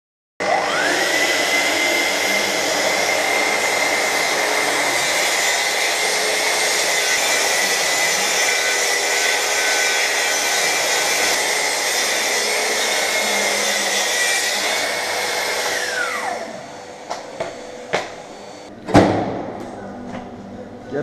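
Power tool cutting on a worksite, a loud steady whirring drone held for about sixteen seconds before winding down, followed by a few scattered knocks and a sharp bang.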